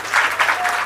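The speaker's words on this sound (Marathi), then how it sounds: "प्रसादसाठी टाळ्या भाई" A short burst of audience applause, dense clapping from a crowd that swells and fades within a second.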